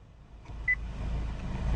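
A single short, clear electronic beep from the voice command system of a 2012 Acura TSX Sport Wagon, sounding once in a quiet, low-humming cabin.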